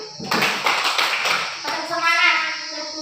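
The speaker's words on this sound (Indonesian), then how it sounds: "Ayo kita berikan tepuk semangat." Schoolchildren in a fourth-grade classroom perform a rhythmic spirit clap, a quick sequence of patterned hand claps together, with children's voices chanting along.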